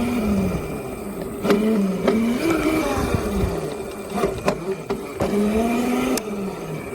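A Razor MX350 electric dirt bike accelerates under throttle, its motor whine rising and falling in pitch through repeated surges, close and fairly loud, with a few sharp knocks over steady background noise.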